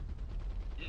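Gunfire in the RTS game Iron Harvest, a rapid burst of shots under a unit's voice callout, ending in a bright ringing report at close range.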